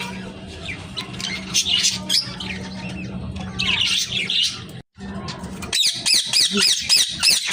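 A pair of quarrelling pet birds squawk and screech harshly in agitated bursts close by, with sharp chirps and squeaky calls overlapping through the stretch.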